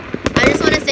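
Fireworks set off on the Fourth of July give a quick run of loud, close cracks and pops that rattle out in under a second, with voices around them.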